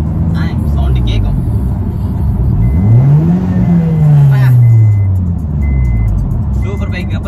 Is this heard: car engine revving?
yes